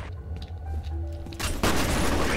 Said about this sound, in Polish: beczka, która zaraz wybuchnie